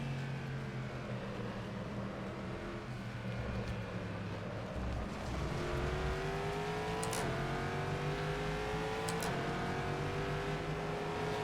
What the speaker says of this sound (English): Oh, that guttural V8 sound